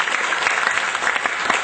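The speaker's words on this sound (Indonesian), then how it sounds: "Kita berikan tepuk tangan untuk talkshow kita kali ini." Audience members at a health talk show give a brief burst of applause, many hands clapping together in a close, even patter that fills the short moment without any talk over it.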